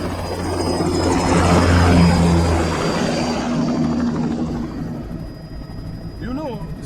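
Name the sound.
aircraft taking off, from video game Metal Gear Rising: Revengeance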